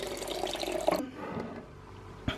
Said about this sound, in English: And we're going to fill this up with water.